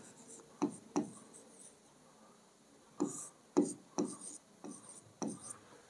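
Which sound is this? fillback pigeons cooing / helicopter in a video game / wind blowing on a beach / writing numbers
writing numbers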